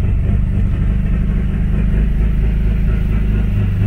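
A warmed-up car engine with newly installed Rvenge Performance coil-on-plug ignition runs with a deep, steady rumble as the revs rise slowly, close by and with no talking.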